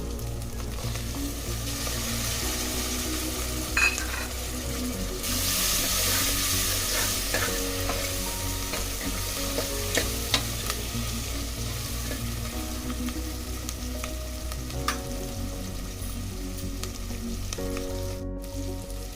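Potato kurma curry sizzles and fries steadily in a pan as tomatoes cook, with a spoon scraping and stirring through it close by and no talking.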